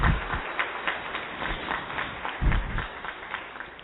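An audience at a tribute event for a women's volunteer committee in Pernambuco applauds. The clapping is continuous and moderately loud, rising and falling, with a few louder thumps.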